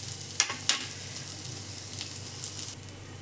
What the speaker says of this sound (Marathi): आता त्याच्यामध्ये एक एक करून असं भाजायला ठेवायचं